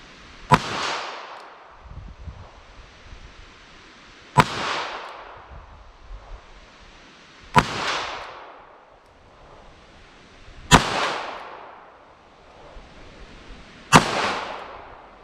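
Five sharp .32 ACP Critical Defense rounds fired from a .327 H&R Magnum revolver, spaced about three seconds apart, each a loud crack with a long echoing decay outdoors, with no talking between shots.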